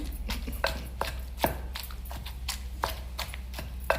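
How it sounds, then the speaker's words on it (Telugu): Ivy gourd chutney is pounded by hand in a stone mortar, village style, giving a run of fairly faint, close, rhythmic dull thuds and knocks. "రోట్లో దంచాల్సిందే"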